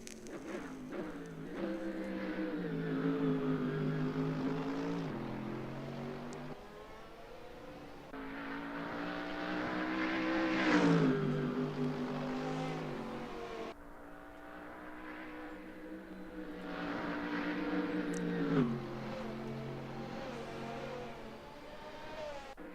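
A safety car circles a racing-game circuit, its engine note rising and falling in long smooth waves of acceleration and easing off, with clear harmonic whine, moderately loud and steady, no talk.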